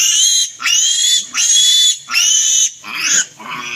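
Pig squealing loudly and shrilly during tail removal at a veterinary mission, four long piercing shrieks in rhythmic bursts with short gasping breaks, close and alone.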